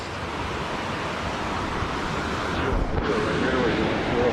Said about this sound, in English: Oh look, there's a little waterfall.